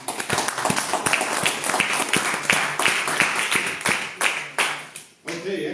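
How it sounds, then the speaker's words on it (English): A crowd at a talk applauds with brisk, close handclaps, a sustained round that thins out and stops near the end, with faint voices underneath. "And one more round of applause, please."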